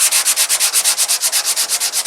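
A car's bodywork is being sanded by hand in quick, steady back-and-forth strokes. About eight strokes a second give a rhythmic, gritty rasp that is close and fairly loud, with no voices.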